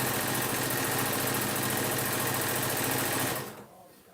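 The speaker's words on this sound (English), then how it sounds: "No need to rush this, you're just sewing squares." A sewing machine stitching terry cloth squares runs in a steady, close whir for over three seconds, then stops abruptly, leaving quiet room tone.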